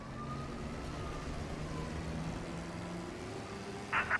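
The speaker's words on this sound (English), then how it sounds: "Ignore the sirens." Police sirens in the Mafia: Definitive Edition video game wail steadily over low engine rumble, with a brief louder burst near the end.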